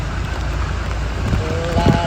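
Heavy rain pours onto a flooded street in Can Tho, Vietnam, a steady splashing hiss with water sloshing, while someone talks over it and a vehicle passes near the end.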